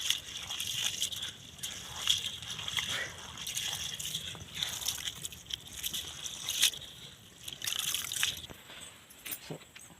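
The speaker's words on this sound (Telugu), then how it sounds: "వాటర్ పోసి శుభ్రంగా కడుక్కోవాలి." Rice is washed by hand in a basin of water, with soft sloshing, swishing and scattered drips. The sounds are fairly faint and come in uneven bursts.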